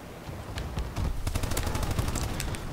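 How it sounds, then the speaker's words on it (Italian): Video game bombardment rumbles on as a dense run of rapid distant blasts and cracks, steady and fairly loud, without pause. "Bravo bombardamento, buono."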